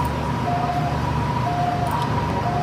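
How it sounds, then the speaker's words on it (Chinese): An ambulance siren wails through a narrow alley near a factory accident scene, with a steady, repeating two-tone pattern that carries clearly over low traffic rumble. "救护车十万火急，在小巷内鸣笛穿梭。"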